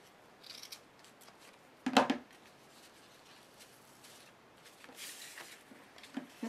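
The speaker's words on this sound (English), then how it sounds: "I'll just cut these ends off." Scissors snip off loose thread ends, one crisp close cut standing out sharply near the start, with faint rustling and handling noises before and after in an otherwise quiet space.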